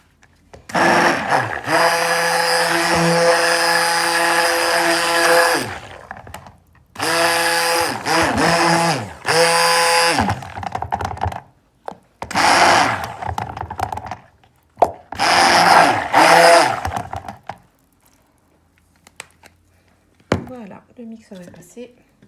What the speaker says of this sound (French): Je vais repasser un peu le mixeur pour bien les dissoudre.